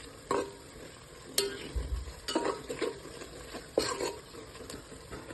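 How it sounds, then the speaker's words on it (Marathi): Spices sautéing in a pot for masale bhat, with irregular scraping and clinking of a spoon stirring against metal and a light sizzle beneath, close and fairly clear. "मसाले छानपैकी परतवून घेतले"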